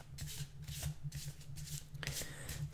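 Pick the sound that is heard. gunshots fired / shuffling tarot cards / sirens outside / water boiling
shuffling tarot cards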